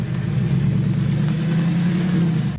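An Audi S5 engine drones steadily from inside the moving car, a constant mid-pitched hum with road noise and no talking, cutting off abruptly at the end.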